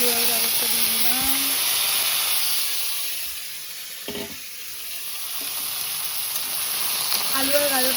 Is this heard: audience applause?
no